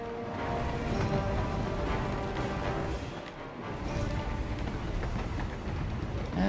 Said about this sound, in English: Clear that train.